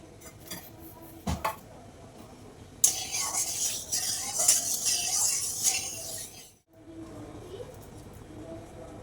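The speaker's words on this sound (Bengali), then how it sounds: "জিরে ফোড়ন দিয়ে দিচ্ছি তেজপাতা দিয়ে দিচ্ছি ফোড়নে" Cumin seeds and a bay leaf hit hot oil in a pan for a vegetarian yam and potato curry, a sudden bright crackling sizzle that holds for several seconds before cutting off, with a few clinks before and faint kitchen noise after.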